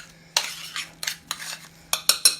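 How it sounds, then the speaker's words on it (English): A spoon scrapes and clinks against a pot or dish while barley and lentils are served, several sharp metallic taps and scoops in quick succession, close and fairly quiet. "I need to get a spoon to serve this"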